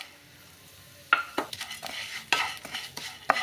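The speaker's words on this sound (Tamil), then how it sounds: "இதை வறுத்து எடுத்துக்கலாம்." Three-quarters of a cup of vermicelli is dry-roasted in a pan, with a faint sizzle under a few sharp, close scraping strokes of a spoon stirring the strands.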